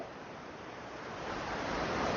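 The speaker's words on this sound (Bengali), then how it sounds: "দেখুন কি ঢেউ আসছে।" Sea waves at Puri beach make a continuous, wind-blown roar that swells steadily louder as a wave rolls in, with no talking.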